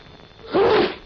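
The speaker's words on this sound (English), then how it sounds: "Now, handkerchief. Sneeze." A single loud sneeze, short and breathy, heard up close and on its own.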